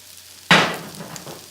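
Sauce in a hot pan on high heat for steak quesadillas, a sudden loud sizzle bursting in and then fading over about a second.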